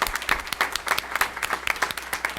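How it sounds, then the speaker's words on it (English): Scattered audience applause at a board of education meeting, a modest group clapping in an uneven rhythm with individual claps clearly audible, moderately close and sustained for a couple of seconds. "we'd also like to just give her a round of applause for her amazing work"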